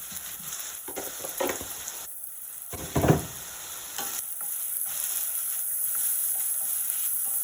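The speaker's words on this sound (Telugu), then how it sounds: "ఉప్పు మనం కొంతగా వేస్తే మనకి ఉల్లిపాయలు బాగా ఫ్రై అయిపోతాయి అన్నమాట" Onions fry with salt in a pan for tomato chutney, a steady close sizzle with a few scraping stirs and one louder clatter near the middle, no talking.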